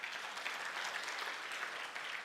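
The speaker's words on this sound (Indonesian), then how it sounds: "Tepuk tangan buat Yesus." A worship congregation claps for Jesus, a brief, even wash of many hands heard from a distance at low volume with no voices.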